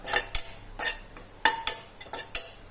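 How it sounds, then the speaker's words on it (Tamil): Grated coconut being lightly roasted in a pan for kozhukattai, with a spoon scraping and clinking against the metal in several separate strokes, close and fairly loud, with no voices. "சேர்த்துட்டு கொஞ்சம் லைட்டாக வறுத்து விட்டுக்கலாம்."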